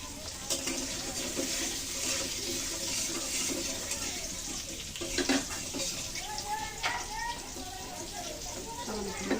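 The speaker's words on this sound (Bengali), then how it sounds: "এখন এই তেলের ভিতরে আমি আলুগুলো ভেজে নিচ্ছি" Potatoes frying in hot oil after fish has been fried, giving a steady, dense sizzle that runs the whole time with occasional stirring scrapes, while someone talks over it.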